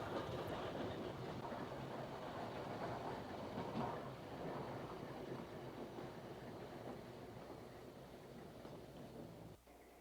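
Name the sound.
train running on rails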